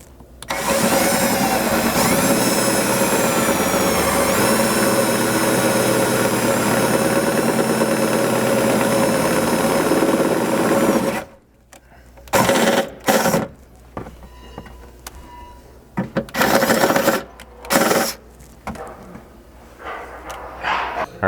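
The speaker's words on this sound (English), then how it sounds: "you're about to go all the way through with your drill bit, stop, put it in reverse" A power drill bores holes through the rear window sheet metal panel of a 3rd generation Toyota 4Runner, whining loudly and steadily for about ten seconds, then stopping and giving several short bursts.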